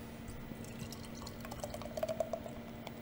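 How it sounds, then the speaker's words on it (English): Beer glugs quickly into a glass in an aggressive, splashing pour, a faint steady liquid stream with a few sharper gurgles near the end, quiet and close. "We have a too aggressive of a pour."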